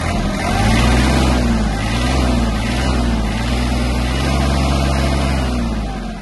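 A Kubota GL-260 Japanese mini tractor's engine runs loud and close, with a steady low rumble that climbs into a revving drone under throttle and holds for about six seconds with no talk.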